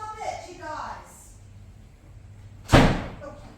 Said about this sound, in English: I'm just going to go and shut that door.